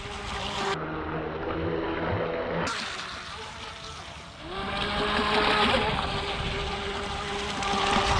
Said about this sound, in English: Nice little speedboat.